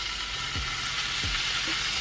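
Bacon fries in a hot skillet with a steady, dense sizzle and crackle, close and even throughout.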